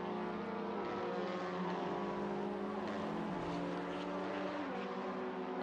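Race car engines from a simulated Macau race, a droning multi-tone engine note held at high revs with a slight pitch dip partway, continuous and fairly loud with no talk over it.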